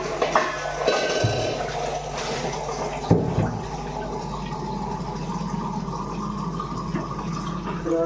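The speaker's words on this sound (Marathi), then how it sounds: "मोटर चालू करून पाणी सोडलेलं आहे" Water from a motor-driven pump gushing into a farm field, a steady rushing and splashing flow with a couple of louder knocks, continuous and fairly close.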